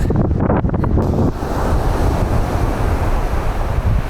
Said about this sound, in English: Beautiful beach. Cross onshore wind conditions.